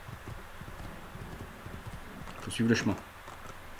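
Horse hooves clip-clopping in the video game Assassin's Creed 2, quiet rhythmic steps under someone talking in French, with a louder burst of game sound near the end.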